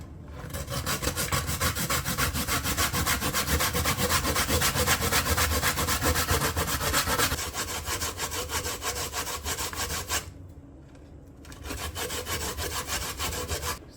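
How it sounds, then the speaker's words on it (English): Coconut is grated by hand with a grater into a bowl for homemade coconut oil, a rapid rasping scrape in steady rhythmic strokes, close and loud, with a brief pause near the end before resuming. "with your grater and your bowl, we're gonna begin to grate the coconut"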